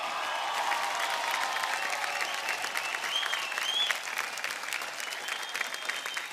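Loud, sustained applause from a large audience for a singer at a folk music show, a thick continuous wash of clapping with faint cheering layered in throughout.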